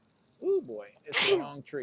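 A single sharp sneeze bursts out close by, with people talking just before and after it.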